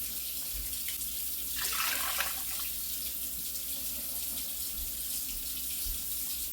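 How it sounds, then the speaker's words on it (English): Tap water running into a Dutch oven for chicken soup, a steady splashing stream that swells briefly in the middle as the pot fills, close and moderately quiet. "Now we're going to add the water 3/4 of the way full."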